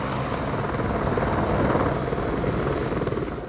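Helicopter in flight carrying passengers home, a steady loud rotor drone with dense broadband whir that stays constant and close throughout, no voices.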